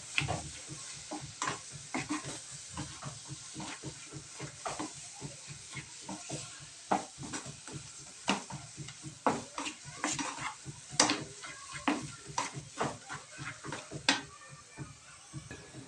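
Mashed brinjal bharit is stirred and sautéed in a pan in the Vidarbha and Khandesh style. A spoon scrapes and clanks against the metal in a rapid, repeated rhythm over a soft sizzle, close and with no voices.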